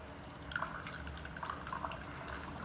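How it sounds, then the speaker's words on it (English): Fuel from an upside-down CT70 clone Nibbi carburetor trickles and drips in a faint, steady stream with a few distinct drops, heard close with no talking. "now I am draining the carburetor"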